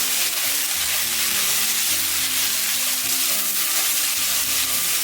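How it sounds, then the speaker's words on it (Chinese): Sliced Chinese yam stir-fried in a wok with shredded ginger and scallion whites in a little oil, giving a steady, close sizzle with a soft hiss that runs unbroken for the whole stretch. "把切好的山药片倒进来翻炒"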